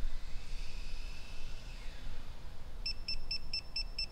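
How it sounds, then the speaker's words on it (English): After a stretch of quiet hiss, a GPS device hooked up to a vehicle gives a rapid series of about seven short, high electronic power beeps. "We should hear some power beeps here in a second."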